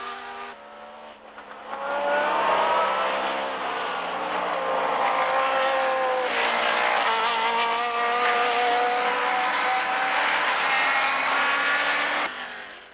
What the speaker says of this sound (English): With less than a lap to go, Greenfield is running out of time to prevent Miaskiewicz from winning his first ever professional race